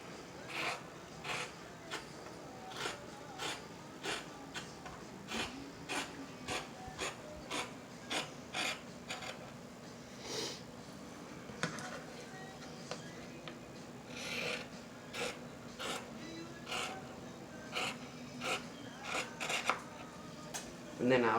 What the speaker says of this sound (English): Take my scissors and I'm going to cut along this line.